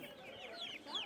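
Chickens cluck and chatter softly at an outdoor market stall that also sells ducks and rabbits, a low, continuous murmur of fowl calls with a few higher squawks, heard without talk.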